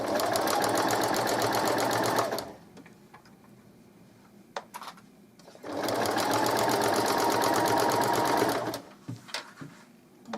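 A home sewing machine stitches a simple double-sided baby blanket in two loud steady runs of about two and a half seconds each, separated by a quiet pause with small handling clicks and rustles.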